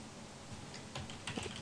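Typing on a computer keyboard: a quick cluster of light clicking keystrokes, close and soft, over a faint steady background hiss with no talking.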